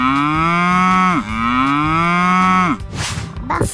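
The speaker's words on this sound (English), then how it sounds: "Cow." A cow moos twice in long, loud, drawn-out calls, each falling at the end, followed by a brief burst of noisy clatter.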